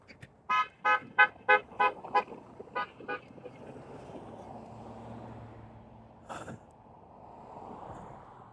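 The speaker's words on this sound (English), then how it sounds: "I don't know why he kept on honking" A car horn honks in a quick series of about eight short toots, fairly close, then stops. A single brief honk follows later, over a low background rumble.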